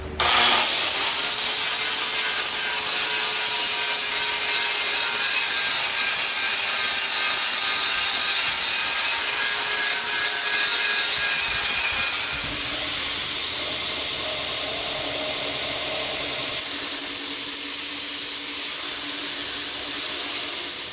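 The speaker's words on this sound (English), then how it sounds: "Time to clean up all this scale, grind it off, and clean it up on the grinder." Grinder taking scale off a forged copper damascus hunting knife blade, a steady loud abrasive whine with ringing tones that drops slightly in pitch and level partway through, continuous and close with no voices.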